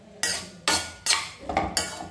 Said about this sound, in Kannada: ಒಂದು ಸರಿ ಮಿಕ್ಸ್ ಮಾಡಿಬಿಡೋಣ